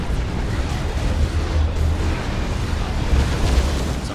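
Booming blasts from mines going off in a Warhammer 40k: Dawn of War 2 battle, a continuous rumbling wash of explosions and combat noise with heavy low thuds and no clear talk.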